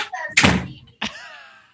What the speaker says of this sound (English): Somebody beating on the door.